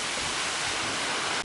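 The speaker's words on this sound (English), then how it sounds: "This is a very high waterfall, by the way." Steady roaring rush of a very high waterfall mixed with gusting wind buffeting the microphone, loud and unbroken before cutting out abruptly.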